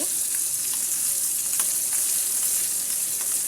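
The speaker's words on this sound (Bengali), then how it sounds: "মাছের এপিট ওপিট আমি দুভাবে সুন্দর করে লাল লাল করে ভেজে নিচ্ছি" Fish pieces frying in hot oil in a pan, a steady bright crackling sizzle throughout with faint pops, close and unbroken.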